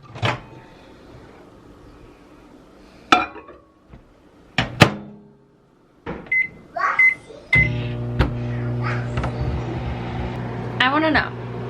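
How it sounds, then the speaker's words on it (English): A kitchen microwave oven heating milk for a child hums steadily through the second half, with clicks and thunks of a door or cupboard earlier and a few beeps near the end, close and moderately loud. "how many times a day do you think you warm up your coffee in the microwave?"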